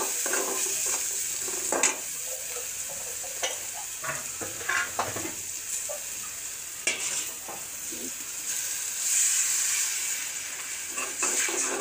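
Chickpeas fry in hot oil with ginger and garlic, a steady close sizzle and hiss running throughout while a spoon stirs and scrapes the pan in irregular clinks and scuffs.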